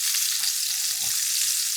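Country style ribs brown in a braiser, giving a steady, close, dense sizzle with no talking.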